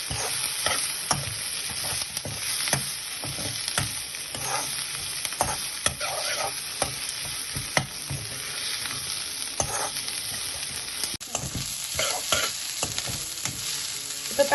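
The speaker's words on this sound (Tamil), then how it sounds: "இஞ்சியும் உள்ளியும் போட்டு இனி நல்லா கோல்டன் ப்ரௌனா வதக்கி" Ginger and garlic fry golden in a pan for goat intestine curry, sizzling steadily throughout with frequent scraping stirs of a spatula; no one speaks.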